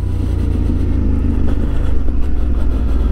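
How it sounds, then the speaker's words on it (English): A cruiser motorcycle with a deep aftermarket exhaust rumbles steadily while riding at about 70 km/h, a loud, close low drone with wind noise and slight pulsing throughout. "the exhaust was very nice. It sounded like a beast."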